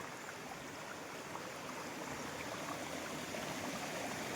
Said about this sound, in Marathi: इकडे पाणी कसं वाहतं मित्रांनो खळखळ खळखळ अशा प्रकारे